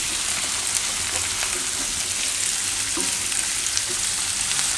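Okra and onion fry in a pan with a dense, constant sizzle, broken by light scrapes of stirring, close up with no talking.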